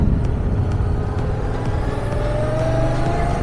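A motorcycle engine holds a steady, even throttle through an obstacle-avoidance manoeuvre on a licence exam course, a continuous close drone with no pauses.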